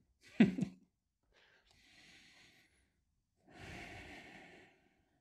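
Heavy breathing during a hatha yoga flow: a sharp, snorting inhale, then two slower, airy exhales a second or so apart, close and fairly quiet, with no talking.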